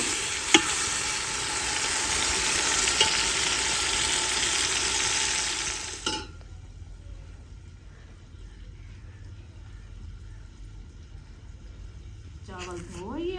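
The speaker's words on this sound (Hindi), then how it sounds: "घी हमारा गर्म हो चुका है, तो हमने मसाला भी ऐड कर दिया है" Masala sizzles loudly in hot ghee as it fries, a steady broadband hiss for about six seconds that then drops to a faint simmer, with a voice speaking near the end.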